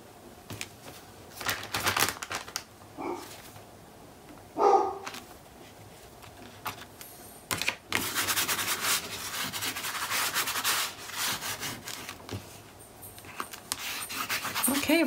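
A guard dog pants close by in bursts, mixed with rough rubbing and sanding sounds from nearby work, all fairly loud and continuous across the stretch.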